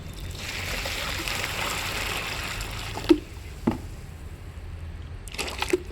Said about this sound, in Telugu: 5 లీటర్లు వాటర్ వేస్తున్నానండి, హాట్ వాటర్.